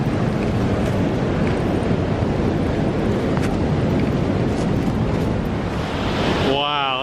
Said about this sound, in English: I believe this is the top of the waterfall over here.